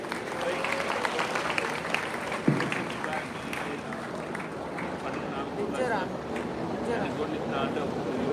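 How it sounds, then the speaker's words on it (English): Audience applause in a hall after a speech at an institution's event, a busy continuous patter of clapping with crowd noise and voices mixed in. "Give a big applause to the sir"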